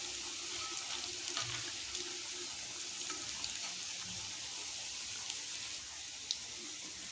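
Onion pakoras deep-frying in hot oil, a steady broadband crackling sizzle with faint bubbling pops running evenly throughout, fairly quiet and close, with no voices.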